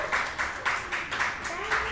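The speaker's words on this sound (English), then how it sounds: "Give them a round of applause." An audience applauds at a creative writing showcase hosted by a writers museum, a light, moderately close patter of clapping with a speaking voice over it at intervals.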